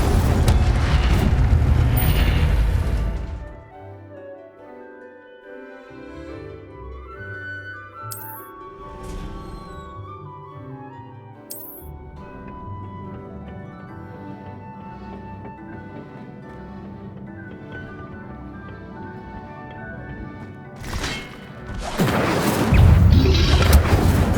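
Incendio fire spell in the Hogwarts Legacy video game: loud roaring, whooshing blasts open and close the stretch, with quieter game music and effects playing between them.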